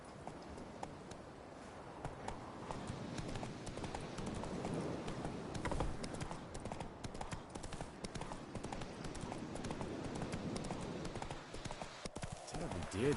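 Hoofbeats of Roach, Geralt's horse in The Witcher 3: Wild Hunt, clopping steadily at speed throughout, fairly loud and continuous with rumbling ground noise, while a voice talks over the riding.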